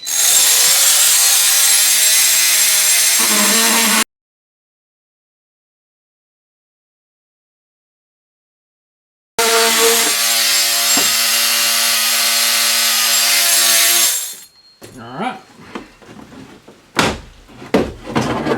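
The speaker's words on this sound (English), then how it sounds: "Now my favorite tool to use on cutting these out is a multi-tool" A multi-tool saws out a switch panel opening on a Honda Pioneer 1000, buzzing loudly and steadily for a few seconds, then going quiet before a longer second cut that ends in scattered knocks and rubbing.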